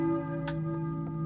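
Church bell tolling across a town in the Silent Hill PS One game, a single resonant strike with long sustained ringing overtones, moderately loud and heard alone.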